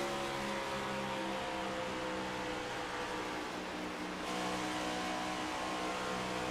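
Outlaw race cars roar around a California track, a loud continuous engine drone with rising and falling revs, heard from a distance, no voices.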